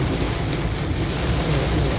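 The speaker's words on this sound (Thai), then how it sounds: "ฟ้าทั้งฝน" A summer storm with heavy rain and thunder during a slow drive, heard as a dense, constant roar of rain and wind noise with a low rumble beneath.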